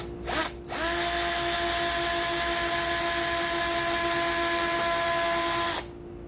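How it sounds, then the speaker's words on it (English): A power drill runs steadily for about five seconds after a brief initial spin, its motor whining at a constant, even pitch. "So I want to drill this all the way through"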